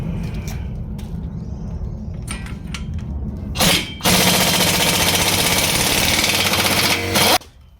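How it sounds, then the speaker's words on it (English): A pneumatic air tool with a 19 socket hammers loose the hub nut on a Ford Figo: short rattling bursts at first, then a loud sustained impact rattle of several seconds before stopping. "an air tool with a 19 socket, and we'll loosen this nut that holds in the hub."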